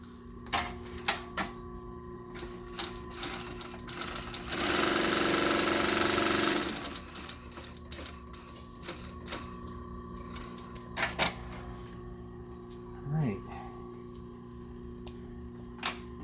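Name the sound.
lightweight sewing machine stitching a leather pouch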